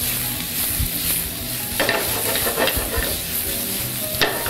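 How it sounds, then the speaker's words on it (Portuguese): A plastic spoon scrapes and stirs food that is browning in a sizzling frying pan, with a continuous close fry hiss and scattered clicks of the spoon against the pan. "mexendo bem para não queimar só um lado."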